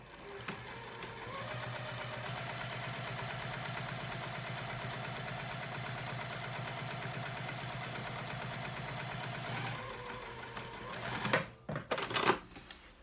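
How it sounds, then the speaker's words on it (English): A sewing machine runs a long, fast, continuous stitching line across a seam on a fabric backpack, steady mechanical whirr and clatter, then stops with a few handling clunks at the end. "I'm just going to sew all the way across and stop at the 1 inch line on this end"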